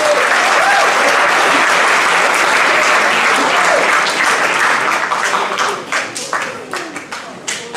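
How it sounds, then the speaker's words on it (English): A school audience gives a warm, loud round of applause for a visiting author, dense at first, then thinning into scattered individual claps toward the end. "Please give a round of applause for Janet Martin."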